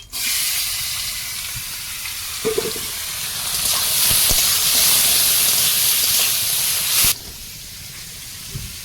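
Large river shrimp frying in hot oil in a wok, a loud steady hiss and sizzle with bursts of spitting, swelling louder midway and then cutting back to a quieter simmer near the end.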